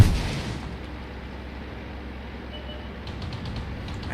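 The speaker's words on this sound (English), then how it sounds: "I am using the hill here as a cover while I shoot." A T26 light tank's gun fires in a tier 2 tank video game, one loud close boom at the start fading into a long rumbling decay, with faint distant shots near the end.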